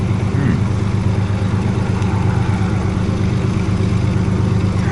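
A big locomotive engine labours with wheel slip on a cold day, giving a steady, loud, low drone that rumbles on without a break, heard close and with no voices.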